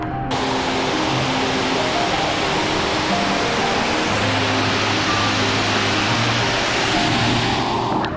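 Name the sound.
waterfall and monsoon rain in the Shiradi Ghat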